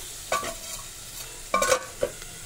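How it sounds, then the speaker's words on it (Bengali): Small lentil dumplings (bori) frying in a pan, with a faint steady sizzle under a few sharp stirring scrapes and clinks. "আর এখানে দেখো আমি একটু বড়ি ভাজা করে নিচ্ছি"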